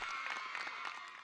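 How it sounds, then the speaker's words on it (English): Light, rapid clapping rises and falls in short bursts for about a second during a scene in the game Fate/Grand Order, thin and applause-like with no voices. "It's clapping."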